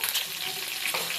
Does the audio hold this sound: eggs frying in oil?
yes